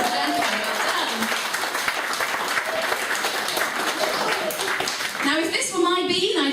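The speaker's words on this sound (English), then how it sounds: "Give him a round of applause, ladies and gentlemen." Audience applause at a comedy show fills the clip, dense clapping with some voices mixed in, and a few shouts or laughs rising near the end.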